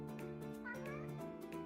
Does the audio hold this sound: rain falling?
no